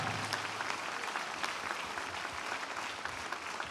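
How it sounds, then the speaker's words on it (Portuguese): A church congregation at a Saturday baptism service claps in praise, dense continuous applause from a large crowd at moderate level, no talk over it. "Vamos aplaudir ao Senhor."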